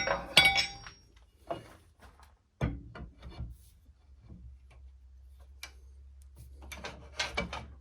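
A metal tool rest is lifted off a wood lathe while turning a log into a bowl, giving a run of sharp metallic clinks and knocks at close range, in separate bursts with short quiet gaps between them.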